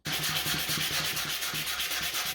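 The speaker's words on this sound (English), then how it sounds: "Right, got this whole thing sanded down." Rapid, even back-and-forth sanding strokes rasp across a large wooden Cthulhu mask, close up and loud, a steady rhythmic scrubbing with no speech.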